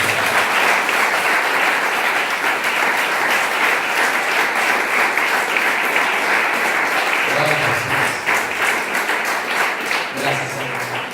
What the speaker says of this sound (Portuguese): As palmas exaltam o Senhor.